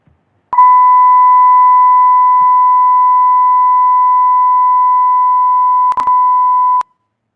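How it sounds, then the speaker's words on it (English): A steady 1000 hertz sine test tone plays alone, loud and pure, holding for about six seconds with one brief glitch near the end before it cuts off. "if I play this 1000 hertz one now, you would hear it so well because of the pitch"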